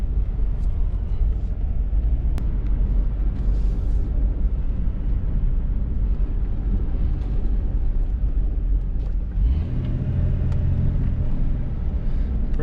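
A junkyard Jeep Cherokee XJ rides on a freshly installed 3-inch suspension lift and drives out of alignment. A steady, loud engine and road rumble continues throughout, with a heavier low surge near the end.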